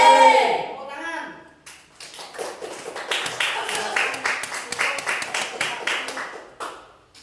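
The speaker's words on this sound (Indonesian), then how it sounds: "Tepuk tangan." Audience applause at a school or religious-study presentation, a sparse scatter of claps that starts after a brief voice and keeps up steadily for several seconds before thinning out.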